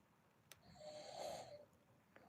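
A single faint snore, a soft rasping inhale that swells and fades over about a second, heard close in an otherwise quiet room.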